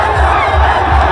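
A large crowd of supporters at a mobilization rally roars and cheers in a continuous, loud wash of voices, with shouts and whoops rising throughout.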